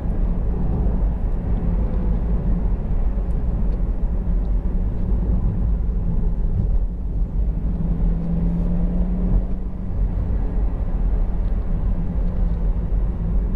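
A Honda CR-Z 1.5 IMA GT on 18-inch OZ alloys cornering on the road, its engine drone and tyre rumble forming a steady low, even roar from inside the cabin.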